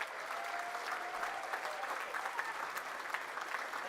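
A university graduation audience applauds steadily in a large hall, dense even clapping at a moderate distance, fairly faint and continuous throughout, with a few louder individual claps and little cheering.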